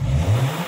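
Toyota Rush engine revving briefly with a rough, stumbling note as it struggles to take throttle, a loud close low-pitched drone, its exhaust muffler reported worn out.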